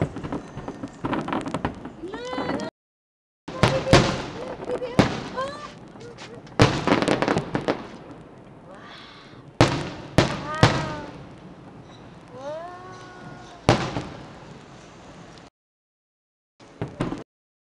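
New Year fireworks burst over Atlantis in a series of sharp, scattered booms and crackles, some loud and some distant, while people chat and exclaim excitedly in between and over them.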